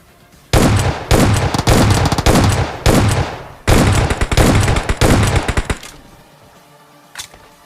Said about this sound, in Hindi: देखो हम किसी कितनी गोली मारते हैं लेकिन ये बंदा मरता ही नहीं है